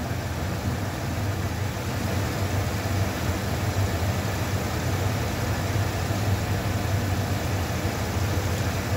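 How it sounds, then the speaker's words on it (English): A 1995 Ford F150 pickup engine on low idle, a steady, quiet low rumble running evenly throughout with no talking. "Truck is on low idle here. I'm just gonna pause and let you listen to the engine again."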